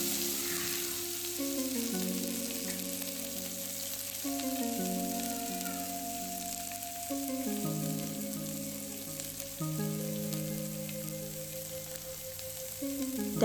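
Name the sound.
green chili and garlic frying in oil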